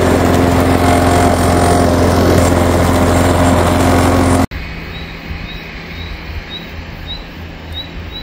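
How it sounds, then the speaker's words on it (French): A loud, steady lawn mower engine drone close by in a vegetable garden, cutting off abruptly halfway, leaving quieter outdoor ambience with faint chirping birds. "moi je passe à la tondeuse dans le potager"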